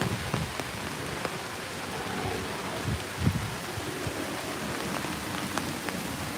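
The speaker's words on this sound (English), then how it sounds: "No, it was just rain coming in." Steady rain falling outdoors at Disney's Saratoga Springs Resort, a dense, even hiss of drops on surfaces with occasional nearer patters, continuous and moderately loud without any voices.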